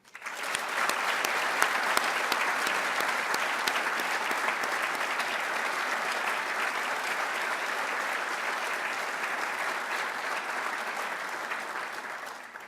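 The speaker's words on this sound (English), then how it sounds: "one more round of applause for the book writing team" Sustained audience applause honouring a book-writing team at a military ceremony, a dense, even wash of clapping that starts abruptly and holds steady before easing slightly.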